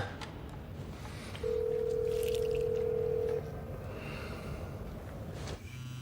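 A single steady electronic telephone tone during a collect call holds for about two seconds over a low hum of line noise, then cuts off.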